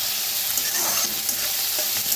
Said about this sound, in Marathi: मटरला भी भाजून घ्यायचं